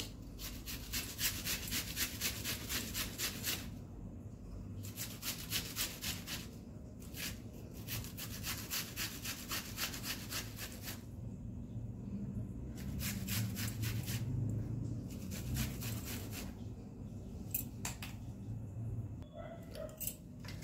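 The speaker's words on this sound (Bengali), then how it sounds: "পেঁয়াজটা ঘষে দেবো।" An onion is rubbed back and forth over a grater in a home kitchen, giving repeated bursts of rasping scrapes with short pauses between strokes, quiet and close, no talking.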